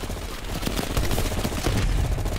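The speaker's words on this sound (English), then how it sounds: "You readied a grenade launcher and charged ahead." A grenade launcher is fired in the Call of Duty Black Ops Cold War campaign, giving a dense burst of booming blasts and rapid gunfire that stays loud and continuous across the short stretch.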